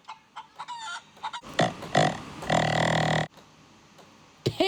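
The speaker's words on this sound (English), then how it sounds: "Chicken." A chicken clucks in short choppy bursts, then lets out a longer, louder drawn-out call before falling quiet and giving a final cluck, close and clear with no talking.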